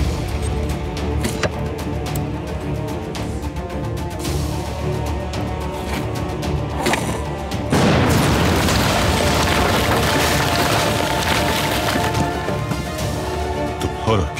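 A bomb detonates in a dramatic scene, a heavy boom bursting out partway through and rolling into sustained rumbling debris over tense background noise.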